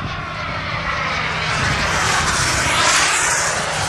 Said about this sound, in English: Both aircraft now coming from opposite ends of the field, increasing the closing ratio and speed.